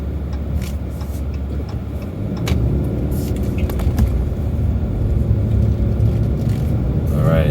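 A car drives through a residential neighborhood, heard from inside as a continuous low road rumble and engine drone with occasional clicks and bumps, steady and fairly loud throughout.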